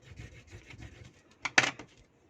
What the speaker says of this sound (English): I'm just going to burnish it on there really well